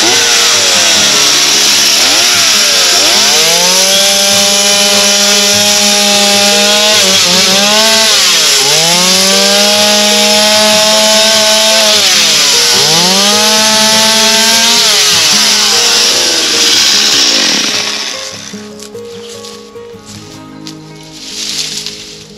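A chainsaw with a problem at the bar tip cuts through wood at close range while building a chicken coop in a village, loud and continuous, its engine pitch dipping and rising repeatedly as the chain bites into the log, then dropping to a lower idle near the end.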